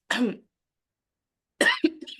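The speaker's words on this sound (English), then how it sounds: "sorry about that coughing in your ears" Two close, dry coughs separated by a short silence, the second followed by a quick throat-clearing rasp.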